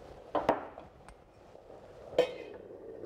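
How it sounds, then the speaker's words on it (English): A lid goes onto a pot of cranberry syrup simmering in a restaurant kitchen, two soft metallic clinks near the start and another about two seconds later, quiet and close. "I'm going to put the lid on this and just allow that to reduce by about half"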